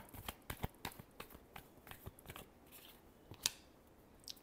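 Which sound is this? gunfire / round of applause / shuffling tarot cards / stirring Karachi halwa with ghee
shuffling tarot cards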